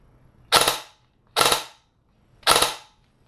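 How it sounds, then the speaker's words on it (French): Three sharp bursts from an airsoft KAC PDW with a MOSFET upgrade, each a tight three-round burst with tiny gaps between shots, spaced about a second apart and loud against a quiet background. "j'ai choisi un burst de 3 avec une latence de 50 millisecondes entre chaque tir"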